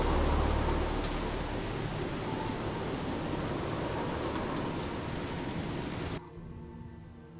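Steady heavy rain hisses through a stormy night in Fallout 4, a dense, loud wash of downpour with low rumbling beneath, continuing alone until it drops abruptly to a quieter level near the end.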